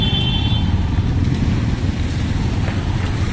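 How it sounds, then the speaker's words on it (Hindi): Heavy road traffic rumbles steadily and loudly, a dense continuous roar of cars and motorbikes close by with no break, and a brief horn-like tone near the start. "बहुत ज़्यादा ट्रैफिक हो रहा है।"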